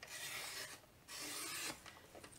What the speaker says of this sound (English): pull out the arm for the trimmer and cut it down to 10 inches